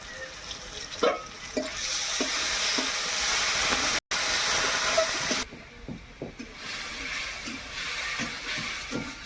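Chopped onion, tomato and ginger garlic paste sizzle and hiss steadily in a pan, with intermittent stirring scrapes and clinks up close; no voices.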